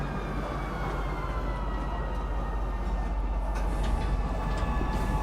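A train pulls in at a spaceport in the Star Citizen video game, a loud, continuous rumbling roar with a high whine above it, steady from start to finish.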